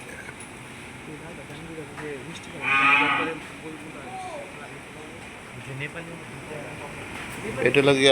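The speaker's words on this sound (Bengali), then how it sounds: "জাফরাবাদী মহিষ চমৎকার" A Jafarabadi buffalo at a cattle farm in Keraniganj, Dhaka, gives a few low moaning lows, one louder call standing out, while people talk nearby over farm background noise.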